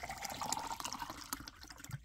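Water pours into a tall glass holding clumpy orange beverage powder from a Brazilian Navy ration, a short, close, splashing trickle that fades out after about two seconds.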